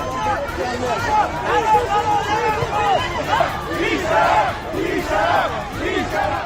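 An enraged crowd of protesters in Iran shouts and chants while setting a police station on fire, a dense, continuous roar of many voices yelling over one another.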